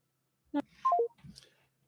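Telephone keypad tones: a few short beeps at different pitches in quick succession, close and clear in an otherwise quiet line.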